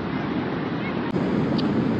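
Surf at Pandawa Beach in Bali, heard from right on the sand close to the water, a steady broadband wash of waves mixed with wind buffeting the microphone, with a brief dropout midway.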